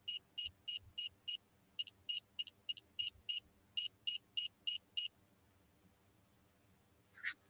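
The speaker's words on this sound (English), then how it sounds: "put the sounds of the buzzer." An electronic buzzer on a wireless Hall-sensor alert circuit beeps in quick bursts of high, sharp tones, repeated in a steady rhythm for several seconds, then falls silent.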